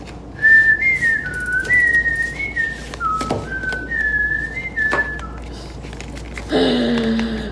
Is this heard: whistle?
yes